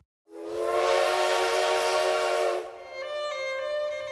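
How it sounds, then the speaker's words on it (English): A loud steam train whistle blows in one long sustained chord, then shifts to a thinner, steadier tone with hiss underneath. "Please turn the page every time you hear the sound of the steam engine train"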